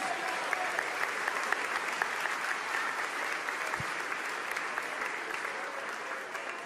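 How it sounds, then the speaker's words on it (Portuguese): A church congregation applauds steadily, a dense, even patter of many hands clapping at moderate volume for several seconds, with no one speaking over it. "Aplauda o Senhor, meus irmãos."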